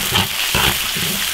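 Garlic and chili sauce sizzle hard in a hot iron wok with oil, a dense continuous frying hiss with light scraping stirs, close and loud.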